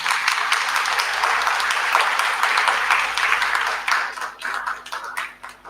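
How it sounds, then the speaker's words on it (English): An audience at a graduation ceremony gives a sustained round of applause, many hands clapping densely and evenly before it breaks up into scattered claps and trails off. "A big round of applause for them."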